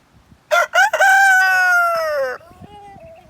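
A rooster crows loudly nearby in one long drawn-out call, followed by softer clucking from chickens.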